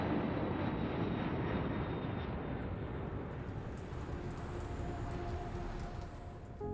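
A fixed-wing aircraft passes overhead near an airport departures curb, a broad continuous engine roar that stays steady and loud throughout, slowly fading slightly toward the end with faint whining tones, and no voices.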